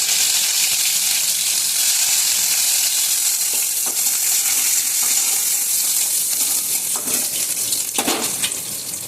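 Garlic sizzles in hot oil in a wok with dried red chillies, a steady, loud hiss running throughout, broken by a few sharp clinks and scrapes of stirring near the end.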